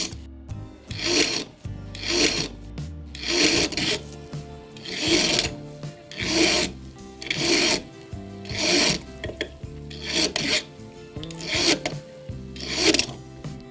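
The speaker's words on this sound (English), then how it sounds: "Run the file across the end of the tapered pin." A metal file rasps across the end of a tapered pin during clock repair, about eleven distinct back-and-forth strokes in an even rhythm, close and loud with no talking.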